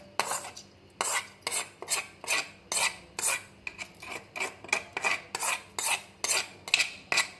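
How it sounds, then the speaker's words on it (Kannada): Citron pickle being mixed with a hot spice tempering, a spoon scraping a bowl in steady rhythmic strokes roughly twice a second, close and moderately loud with no voices. "ಒಗ್ಗರಣೆ ಮಾಡ್ಕೊಂಡಿದ್ವಲ್ವ ಅದನ್ನು ಇದಕ್ಕೆ ಹಾಕಿ ಕಲಸೋಣ."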